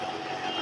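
A DC 12-volt Big Pumps 100-watt pump, model T-1008L, runs in jet mode with a steady, loud, dense hiss and roar, unbroken and close, with no voices over it.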